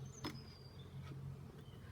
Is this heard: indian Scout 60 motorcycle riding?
no